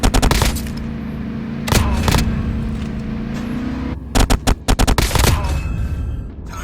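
Gunfire in the mobile shooter game Call of Duty Mobile, loud sustained bursts of automatic fire with rapid clustered shots later, over a droning vehicle engine in the game.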